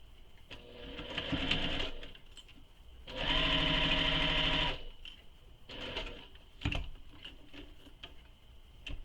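A sewing machine stitches a fabric shoulder bag in bursts, a close whirring rattle running about a second, then a longer two-second run, then shorter runs separated by pauses and small handling clicks.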